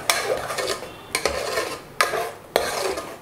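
A spoon scrapes and stirs ground coconut paste into cooked beetroot in a cooker, rhythmic metallic scrapes against the pot repeating every half second or so, close and clear with no talk.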